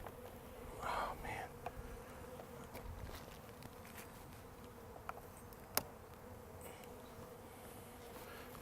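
Honey bees buzz faintly and continuously around an open beehive during a spring inspection, with occasional soft clicks and handling knocks from the hive equipment.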